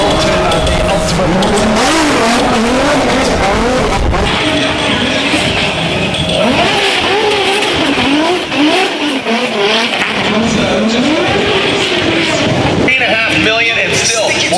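Red Bull Drift Shifters drift car sliding sideways through a Liverpool street course, engine howling and tires squealing loudly and continuously under an excited commentator's voice and crowd noise.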